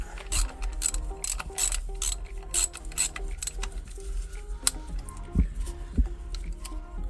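Ratchet wrench removing an engine bolt on a Ford Fiesta ST150, rapid metallic clicking in quick bursts with pauses and a few heavier knocks, close up and without talk.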